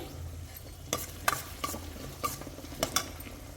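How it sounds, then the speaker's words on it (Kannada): Onions frying in a pan for an egg fry, with a steady low sizzle and several sharp scrapes and clinks of a spoon stirring at close range, no voices. "ಇವಾಗ ಚೆನ್ನಾಗಿ ಈರುಳ್ಳಿ ಬೇಯ್ತಾ ಇದೆ"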